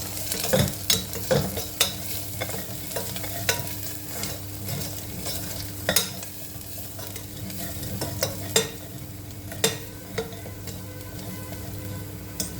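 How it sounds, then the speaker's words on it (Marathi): Spices such as turmeric and garam masala sizzle steadily in hot oil for a matki curry, with a spoon scraping and tapping the pan at irregular moments throughout. "थोडीशी हळद टाकायची थोडासा गरम मसाला टाकायचा आणि चांगलं परतून घ्यायचं"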